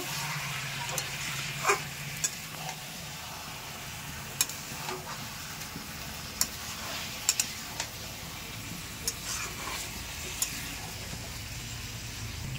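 Chicken for biryani sautés in a pan, giving a faint, steady sizzle with scattered sharp scrapes and clinks of stirring. It sounds quiet and close, with no speech.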